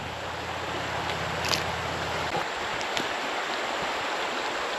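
A creek's rapids rush in a steady, broadband wash of flowing water, close and continuous, with a low rumbling hum in the first half and a few faint knocks.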